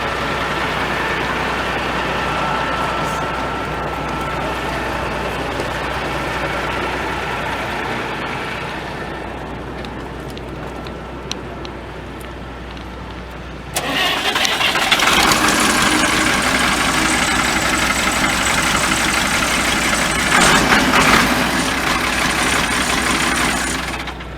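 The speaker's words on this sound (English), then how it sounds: "We'll show you the engine starter real quick." A heavy Freeman bale wagon engine idles with a low rumble, then catches and revs up to a louder, busier running sound that holds steady.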